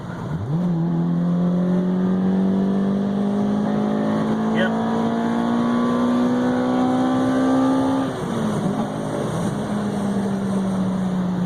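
A 2000 Toyota Celica GTS six-speed engine revs steadily upward under load toward about 6,200 RPM as the variable valve timing engages, then drops on a shift and climbs again, loud and close, with a brief spoken word.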